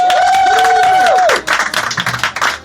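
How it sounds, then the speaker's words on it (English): A comedy club audience claps and cheers for a stand-up comedian, opening with a sustained tone or musical sting before dense applause takes over in the second half, fairly loud. "Clap it up for Jeanette Eng."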